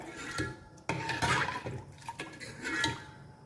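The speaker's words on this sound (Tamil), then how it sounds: "இது எல்லாத்தையுமே நல்லா கலந்து விட்டுக்கலாம்" Metal utensils clink and scrape against a pot as thoothuvalai rasam sloshes, with irregular stirring sounds close by.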